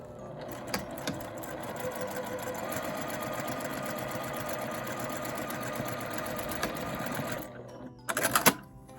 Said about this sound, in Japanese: 角から角に線を引きます。 ここを縫います。